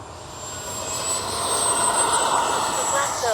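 A Freewing F-22 Raptor 80mm RC jet takes off, its ducted-fan engine building into a steady loud whine with a high tone that holds throughout, nearby and continuous.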